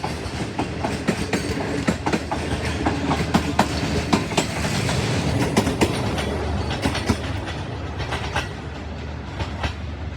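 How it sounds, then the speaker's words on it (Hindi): Freight and passenger trains rumble past nearby at Badamibagh Station with steady clickety-clack of wheels over rail joints, a continuous loud roar with rhythmic clatter throughout. "एक तरफ ये मालगाड़ी और दूसरी तरफ पैसेंजर ट्रेन"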